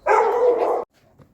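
A single loud, drawn-out bark from a dog being warmed up for attack training, close and harsh, followed by near silence and a faint small noise.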